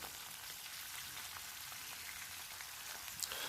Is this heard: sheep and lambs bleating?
no